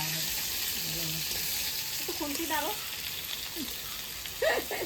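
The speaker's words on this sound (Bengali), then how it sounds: "তেলে আমি আলুটা ভেজে নেবো" Potatoes fry in hot oil in a home kitchen, giving a steady, close sizzling hiss throughout, while people talk intermittently in the background.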